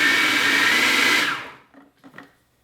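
A food processor runs on low speed while mixing candy filling, giving a steady loud whir that cuts off, followed by a few faint rattles and knocks.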